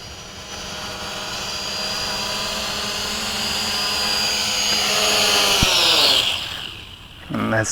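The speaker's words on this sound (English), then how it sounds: "And that's the MJX 600 Hexacopter with the RunCam attached to the bottom." An MJX X600 hexacopter drone carrying a RunCam camera whines with a loud, steady rotor buzz, then the pitch falls and the sound cuts out as it comes in to land.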